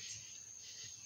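Crickets chirping at night, part of an outdoor chorus alongside bullfrogs, a steady high insect trill holding throughout at a distant, faint level.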